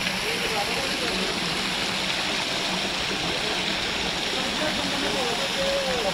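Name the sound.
Maulikund waterfall, Radhanagari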